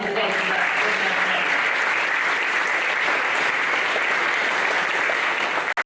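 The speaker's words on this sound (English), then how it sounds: "Let's have a applause for that." An audience applauds at a county recreation sports hall of fame induction ceremony, with sustained, dense clapping from a large crowd that carries on evenly before stopping abruptly.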